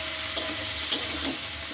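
Chow mein vegetables and chilli fry in a pan with a soft, even sizzle and a few light utensil knocks, fairly quiet and without speech.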